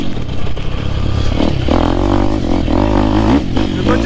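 A 2024 250F motocross motorcycle engine pulls hard under acceleration, a loud, steady droning roar with rising pitch through the gear, close by and continuous without talk.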